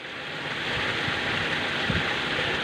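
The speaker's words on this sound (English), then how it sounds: "For now I see that water is running well." Water runs steadily through the sluice pipe of a gold wash plant under construction, a continuous broadband rushing hiss with a few soft low thumps, close and fairly even throughout.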